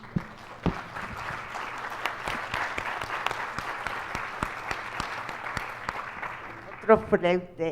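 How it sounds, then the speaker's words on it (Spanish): An audience at a university teaching symposium in Mexico applauds after a conference talk, a dense, steady patter of many hands clapping for several seconds before tapering off as a voice begins. "otro fuerte aplauso ahora"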